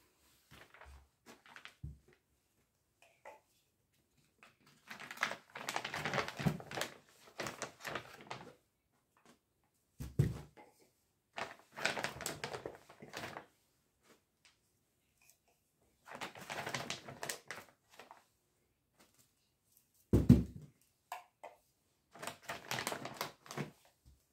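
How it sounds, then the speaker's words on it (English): Crochet threads being packed into a zippered plastic package: intermittent bursts of crinkly rustling and soft clicks and knocks, close by, separated by quiet pauses. "So let's pack our threads here."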